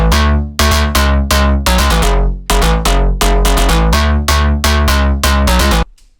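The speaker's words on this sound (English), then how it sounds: "here I have a loop from a Vengeance sample pack." Music loop from a Vengeance sample pack, loud rhythmic stabs of plucked tones over punchy low hits, repeating in a quick syncopated pattern before stopping abruptly, with no talking.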